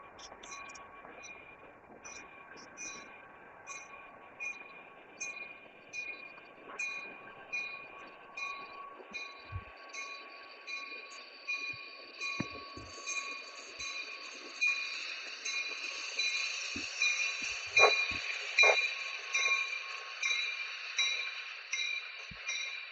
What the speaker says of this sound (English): This one's always a small train. It's just always pulling tankers.